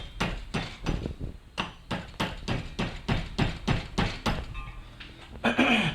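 Roughly a dozen sharp hammer blows, evenly paced and close, flatten a Speedi Boot CV boot clamp on an axle CV joint, each strike ringing briefly.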